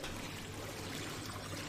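A brief, steady rush of pouring and trickling water fills a flooded area in the video game Deliver Us the Moon, a continuous soft splashing wash heard alone.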